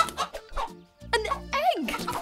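A cartoon chicken gives a few quick clucks and a rising squawk, mixed in with bright animated speech and children's show voices.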